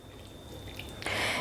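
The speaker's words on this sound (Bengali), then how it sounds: "এরপর আমি এই আলুগুলোকে খুব ভালো করে পরিষ্কার জল দিয়ে ধুয়ে নেব।" Water splashes and trickles briefly as grated potatoes are rinsed in clean water, a faint drip swelling into a louder pour at the end, close by with no talk.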